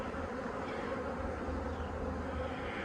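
Honeybees buzzing steadily from an opened hive during a winter inspection, a dense, continuous drone heard up close with no talking.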